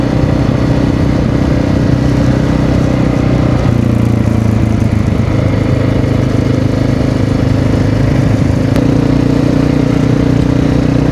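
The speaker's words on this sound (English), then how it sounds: "That's a 1995 XR600R." A 1995 Honda XR600R dirt motorcycle engine runs steadily and close by, a continuous low, rough mechanical drone with no talking over it.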